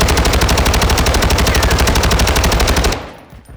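An LMG in Warzone fires a long, unbroken burst of rapid, evenly spaced loud shots for about three seconds, then cuts off abruptly into a faint fading tail.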